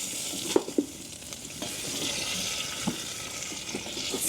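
Spoon stirring beef stew in a pot on a hot tent camping stove, with soft scraping knocks over a steady bubbling sizzle, close and fairly quiet, no voices.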